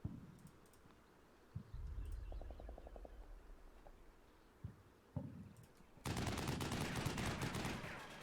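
Machine gun fire from the video game Combat Mission: Shock Force 2 rattles in a short burst, followed by a few isolated shots, then a loud, dense stretch of gunfire near the end.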